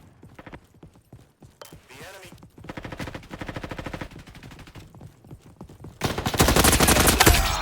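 Rapid game gunfire in a Roblox shooter, bursts of fast repeated shots that stop and start across the clip, growing into a louder, denser volley at the end.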